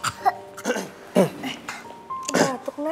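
A child coughs several times in short, hoarse bursts, close and fairly loud, with brief pauses between.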